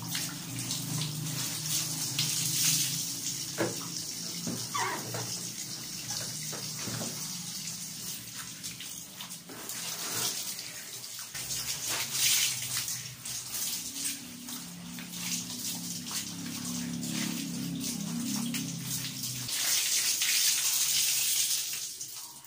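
Laundry, including underwear, being hand-washed in a basin of water: steady close sloshing, splashing and wringing that continues with loudness swells, no talking.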